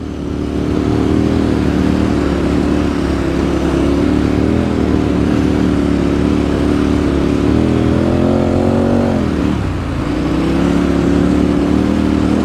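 A motorcycle on Motoz Tractionator adventure tyres rides across beach sand dunes, its engine loud and close, holding a steady drone before a quick throttle dip and rev around the ten-second mark.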